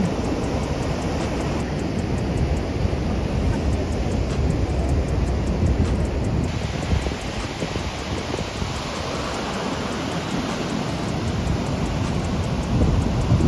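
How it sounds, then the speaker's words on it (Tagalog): Large ocean waves breaking at Sharp Peak on an open shore, a loud continuous roar of surf with wind buffeting the microphone and no voices. "Masyadong malalaki ang alon."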